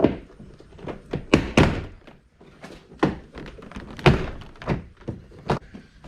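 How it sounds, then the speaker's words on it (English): Interior door trim panel being pried off an Audi Q7, a series of sharp plastic clip pops and thunks, loud and close, coming in irregular bursts with short pauses between them and no talking. "now we're just going to pry on the panel starting from the bottom."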